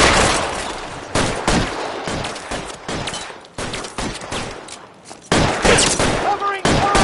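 Video game gunfire in L.A. Noire: a loud, dense fusillade of repeated shots and bursts, some rapid like automatic fire, filling the scene with sharp cracks and a voice heard faintly beneath.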